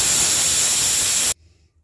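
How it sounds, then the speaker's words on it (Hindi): Pressure cooker on a gas stove, cooking potato and pea curry, vents steam in a loud, steady hiss that cuts off abruptly, leaving near silence. "तो देखिए 1 सीटी आने ही वाली है।"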